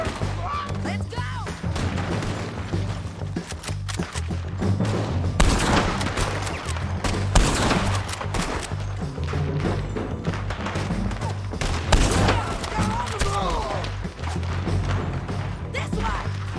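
Repeated gunfire crackles through a Red Dead Redemption 2 shootout, with sharp shots and heavier booms scattered over a busy mix of game music and shouting voices.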